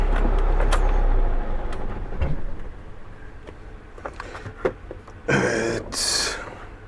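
A motorhome's engine rumbles briefly at low speed as it pulls in to park, then falls quiet, leaving scattered clicks, a handbrake-like ratchet and a few knocks and thumps inside the cab.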